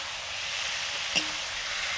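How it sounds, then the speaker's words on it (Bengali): Fried potatoes and eggplant tipped into a hot pan during home cooking, a steady bright sizzle throughout with one brief sharp clatter and hiss in the middle as the vegetables land. "এবারে দিয়ে দিচ্ছি ভেজে রাখা আলু বেগুন"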